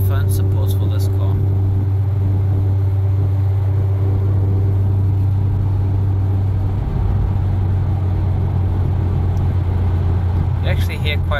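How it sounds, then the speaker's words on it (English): A Mazda RX8 driving along a curvy road gives a steady, loud exhaust drone that holds an even pitch throughout, heard from inside the car with no talking. "You actually hear quite well the exhaust, eh?"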